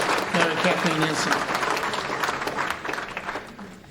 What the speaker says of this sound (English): Also, a round of applause for our Star Spangled Banner.